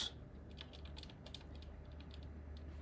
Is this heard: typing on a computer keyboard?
yes